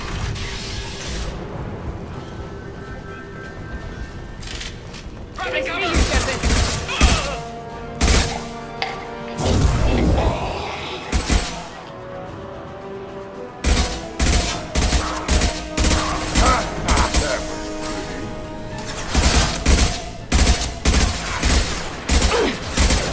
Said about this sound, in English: Firing concussive shots!